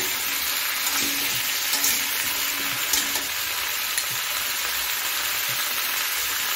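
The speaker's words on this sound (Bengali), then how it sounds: "ঝিঙ্গে দিয়ে দিচ্ছি, একটু নাড়িয়ে নিচ্ছি" Ridge gourd fries in a pan with a loud, continuous sizzle, and a few soft scraping strokes come through as it is stirred.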